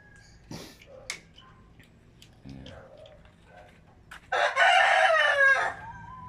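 Chickens cluck softly around a backyard garden before a rooster crows loudly and close for about a second, with quiet rustling in between and no talk.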